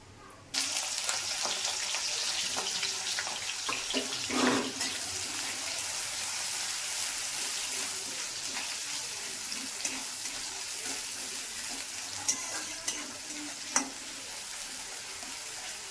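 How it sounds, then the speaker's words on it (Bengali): Onion hits hot oil with an abrupt loud onset, then a dense, steady frying hiss continues close up, with a few brief clicks and stirs near the end. "এবার তেলটা হয়ে গেছে, তো এবার পেঁয়াজটা দিয়ে দেবো"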